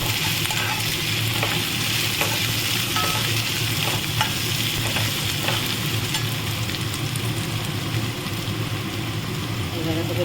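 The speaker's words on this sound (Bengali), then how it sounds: "আদা রসুনটা দিয়ে একটু ভালো করে নাড়িয়ে নেবো" Ginger and garlic are stirred into onions frying in a pan, a steady close sizzle with repeated scraping strokes of the spoon running throughout.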